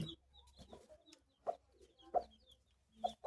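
A brooding hen with her newly hatched chicks, close soft clucks from the hen scattered through the stretch and several short, higher peeps from the chicks at irregular intervals, without talk.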